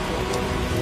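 Rain falling as a steady, dense hiss of drops on surfaces, continuous and fairly faint.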